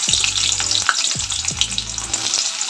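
Sliced onions fry in about four tablespoons of hot oil in a kadai, giving a continuous crackling sizzle with light clinks of stirring, close and steady with no talking.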